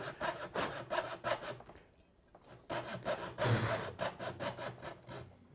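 A thin-bladed frame hand saw cuts wood in quick rhythmic rasping strokes, close and moderately loud, with a brief pause midway before the steady sawing resumes.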